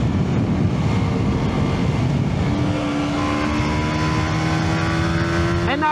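A 125cc motorcycle engine drones steadily, then its pitch climbs as the revs rise, loud and close, with a faint voice underneath.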